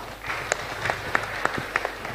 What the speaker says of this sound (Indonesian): Tepuk tangan untuk desa.